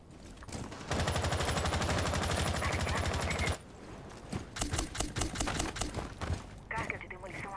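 Video game gunfire: a sustained rapid burst of automatic shots, then scattered single shots and short volleys, with a player talking faintly around them.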